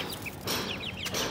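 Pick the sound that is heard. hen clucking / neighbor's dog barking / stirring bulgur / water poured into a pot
hen clucking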